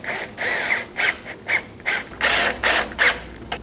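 Number 10 screws being driven into the folding bracket of a wooden extension table for a Sailrite leatherwork sewing machine, heard as about eight short ratcheting bursts with brief pauses, close and fairly loud.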